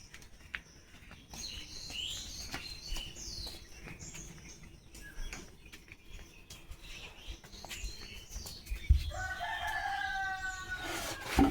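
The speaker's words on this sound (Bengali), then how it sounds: "দেখো মুরগি কিরকম ডাকছে ওই পাশের বাড়ি মামিদের" A rooster crows from a short distance while hens cluck and small birds chirp around it; a louder close crow rings out near the end.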